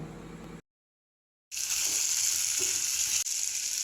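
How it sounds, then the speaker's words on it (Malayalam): Fried chicken pieces are stirred into hot masala in a pan for a Kerala-style chicken fry, bringing a loud, steady sizzle that cuts out briefly and then returns. "ഇനി നമുക്ക് വറുത്ത് കോരി വെച്ച ചിക്കൻ ഇതിലേക്ക് ഇട്ട് നന്നായി ഒന്ന് യോജിപ്പിച്ച് എടുക്കുക"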